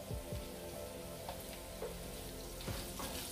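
Leftover idli frying in a pan with asafoetida, giving a continuous close sizzle with occasional soft pops and spatters from a stirring spoon, steady and fairly quiet, with no talking.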